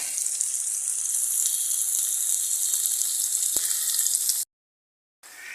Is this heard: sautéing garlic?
yes